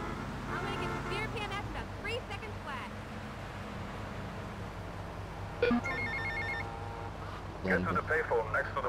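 A phone rings inside GTA Vice City Definitive Edition, repeated electronic ring tones sounding over game music and background effects, with someone talking over the gameplay.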